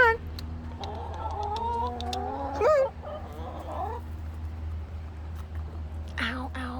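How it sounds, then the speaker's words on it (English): Hens cluck and murmur softly in a steady, busy chorus while eating worms, with occasional higher squawks cutting through. "I hope you like watching chickens eating worms"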